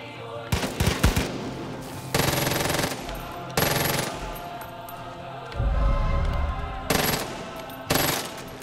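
Rapid bursts of Uzi submachine gun fire in the video game Far Cry 5, several loud automatic volleys of varying length separated by short pauses, with a voice occasionally underneath.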